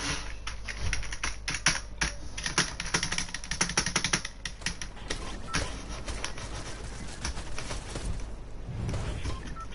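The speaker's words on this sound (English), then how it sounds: "I'm playing on keyboard and mouse" Computer keyboard and mouse clicking during PC gaming, rapid uneven close taps and clacks running continuously with brief bursts of faster keystrokes, no talking heard.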